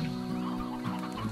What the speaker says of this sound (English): So there we go. 12 stony hens.